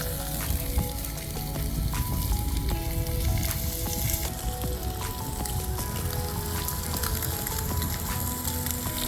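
Vegetables sizzling in a pan with leftover marinade, a loud, continuous crackling fry with scattered pops and spatters throughout, no voices.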